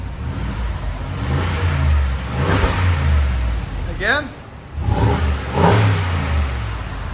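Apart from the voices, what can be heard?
V8 pickup truck engine revving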